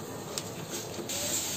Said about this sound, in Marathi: तो कुकर छोटा आहे ना म्हणून तो शिट्टीतून पाणी येतो